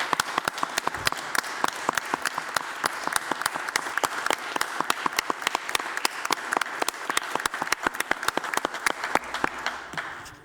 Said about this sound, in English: we would like to give her a round of applause